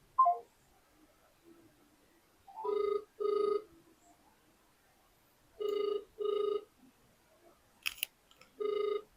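Phone call going unanswered: a ringback tone in paired bursts repeats three times with pauses between, clear and steady, with no talk over it.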